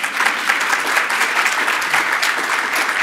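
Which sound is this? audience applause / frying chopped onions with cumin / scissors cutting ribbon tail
audience applause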